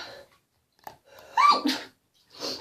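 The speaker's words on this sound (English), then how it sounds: "Oh, I'm going to sneeze." A single sharp sneeze, preceded by a quick intake of breath, close and loud, with a soft breathy exhale afterward.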